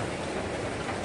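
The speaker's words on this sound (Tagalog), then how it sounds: "Lumakas kasi ang ulan guys." Heavy rain pours down outside a government licensing office, a dense, steady hiss of downpour that fills the whole moment with no voices over it.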